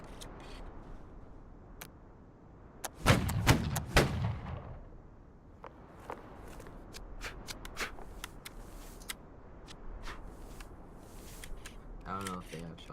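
Video game battle gunfire and artillery, a burst of heavy booming shots early on followed by scattered sharp cracks and rapid clicks, mixed with faint voices talking in the background.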